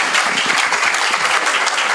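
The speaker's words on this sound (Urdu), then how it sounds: "آپ سبھی ان کا استقبال کریں، زوردار تالیاں۔" Loud, dense audience applause fills the hall at a poetry recital launch ceremony, steady sustained clapping from many hands with no pauses.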